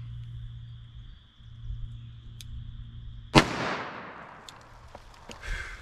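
A single sharp gunshot from a 4⅛-inch-barrel handgun, 9mm+P or .357 Magnum, fired into ballistic gel, cracking loudly after a quiet hum and decaying into a rumbling tail, with faint knocks afterward.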